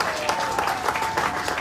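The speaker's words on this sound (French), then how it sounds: "applaudissez pour la structure" Brief applause from an audience at a beauty event held in a hotel, a short burst of clapping with a faint steady tone running beneath it.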